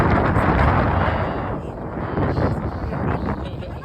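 Gusty wind buffeting the microphone outdoors at Tokyo Station during cherry blossom season, a loud steady rumbling roar that eases slightly midway and then swells again.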